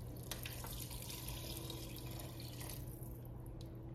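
Water pouring steadily into a soup pot from a tap, a faint, continuous splashing rush that eases slightly toward the end.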